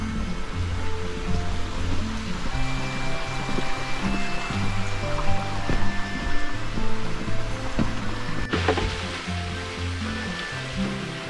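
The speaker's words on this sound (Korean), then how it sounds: "계곡 물소리가 크게 들려옵니다." Loud, steady rush of a mountain valley stream fed by a three-tier waterfall on a hiking trail, a dense continuous watery roar throughout with no talking.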